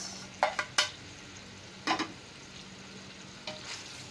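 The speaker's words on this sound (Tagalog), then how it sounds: "So again, haluin lang natin sandali." Chicken adobo with bay leaves and whole peppercorns frying in a pan, a soft steady sizzle broken by a few short scraping stirs of a utensil, near and alone.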